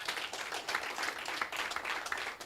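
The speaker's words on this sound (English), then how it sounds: "Give them a round of applause." Audience applause at a college research partnership launch ceremony, dense steady clapping from a large crowd filling the room, continuous and fairly loud throughout.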